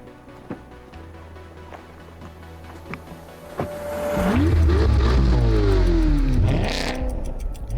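A 2025 Corvette ZR1 launches in a drag race, its engine revving hard and swelling into a loud, sustained roar as it pulls away, with rising gear sweeps and a brief shift before climbing again.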